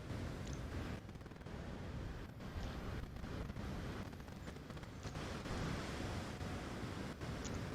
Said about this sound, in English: you get some respite from the sound of the waves. Those are noisy.